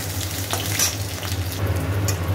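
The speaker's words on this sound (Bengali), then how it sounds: "কাঁচা লঙ্কা নুন দিয়ে দিয়েছি, একটু ভালো করে একটু ভেজে নিচ্ছি।" Green chillies with salt sizzle in a pan in a home kitchen, a steady close frying hiss with faint stirring clinks and no voices.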